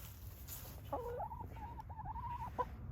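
A backyard hen, puffed into a ball of feathers against the cold near her coop, gives a faint, drawn-out murmuring cluck lasting about two seconds over steady low background noise, with no talking.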